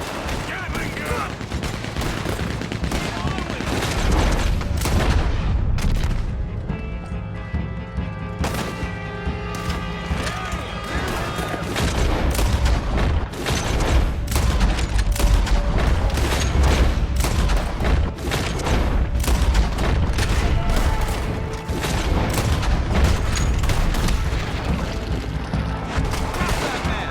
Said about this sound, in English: Gatling gun!